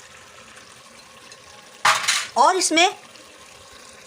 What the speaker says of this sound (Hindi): इसमें 1 से 2 कप पानी डाल देते हैं ताकि हमारा गोश्त गल जाए